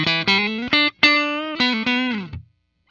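A Fender George Harrison limited edition rosewood Telecaster electric guitar with single-coil pickups plays a short melodic phrase of sustained, bright notes, close and alone, ending in silence.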